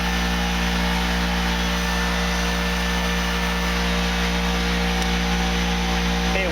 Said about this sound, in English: My compressor in the background is pretty loud.